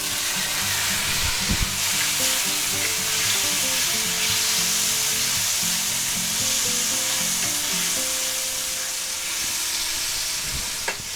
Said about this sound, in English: Now we're gonna put 1 teaspoon of minced garlic in there.